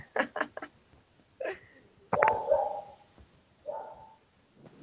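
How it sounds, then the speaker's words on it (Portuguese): A dog barks and yelps in short bursts, a few quick barks, then a louder drawn-out whining bark and a softer one, fairly faint and somewhat distant against a quiet background. "Quem tá com o cachorro latindo aí?"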